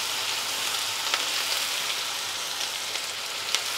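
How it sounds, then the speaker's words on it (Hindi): Finely chopped medium onion fries in hot oil with a dense, steady sizzle, broken now and then by small crackles and pops, close and fairly loud. "तो एक मीडियम साइज़ के प्याज को छोटे छोटे टुकड़ों में काट के हम डाल देंगे और प्याज के कलर चेंज हो जाने तक हम फ्राई कर लेंगे"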